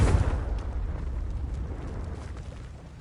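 A Confringo spell explodes in the video game Hogwarts Legacy, opening with a loud booming blast that decays into a rumbling, crackling tail over about three seconds, with no talk.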